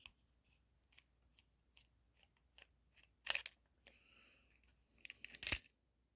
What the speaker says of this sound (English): So you just have to take these two screws off.